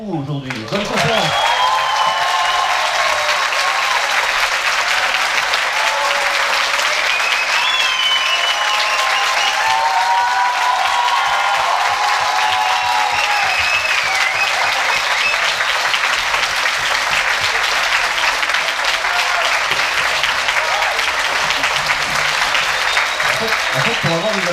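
Sustained applause from a conference audience, steady and dense throughout, with a few whistles and voices mixed into the clapping.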